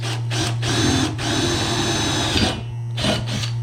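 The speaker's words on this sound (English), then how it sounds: "So we're gonna drill 2 holes in this" A power drill whines in several bursts, biting into junk aluminum in a garage with a high, grinding buzz, pausing briefly between runs.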